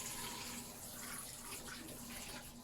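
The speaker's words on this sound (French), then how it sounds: "je remets de l'eau propre, histoire d'enlever l'excédent de savon" Clean water running and splashing steadily to rinse soap from a hand-knitted piece being blocked by soaking, a continuous close pour with no voices.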